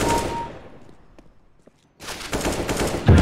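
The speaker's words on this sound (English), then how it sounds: "Shotgun." Counter-Strike gunfire, with a loud fading blast at the start, a near-silent gap with faint clicks, then a burst of shots ending in a heavy boom, no talking.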